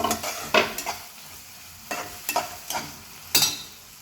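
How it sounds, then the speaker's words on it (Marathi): Chopped tomatoes and onions frying in a pan, with a steady sizzle broken by several sharp, irregular spoon-and-pan scrapes from stirring, close and moderately loud with no voices. "टोमॅटो जे छोटे आपण काप केले, टोमॅटो त्याच्यामध्ये थोडं शिजू द्यायचं आहे."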